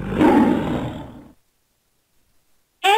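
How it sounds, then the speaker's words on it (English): A lion's roar in a children's animal alphabet song, a single loud, rumbling burst that fades out over about a second, followed by silence. "Lion begins with L."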